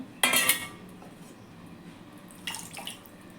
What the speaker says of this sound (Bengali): হাতটা ধুয়ে ফেলছি এবার